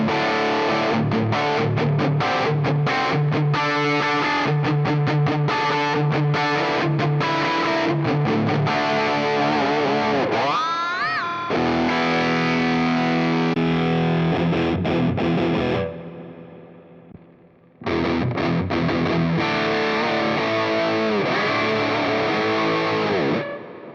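Heavily distorted electric guitar through a Line 6 Helix Swedish Chainsaw distortion plays loud, saturated chugging riffs with sustained chords, a brief pitch-bending squeal, and a short pause before the grinding tone returns.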